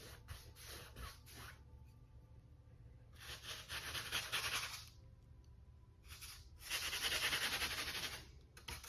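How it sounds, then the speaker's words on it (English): Dry, bristly scraping strokes of a dry paintbrush with acrylic paint on rough canvas, coming in short bursts then longer sweeps, close and quiet with pauses between. "That sound is dry brush"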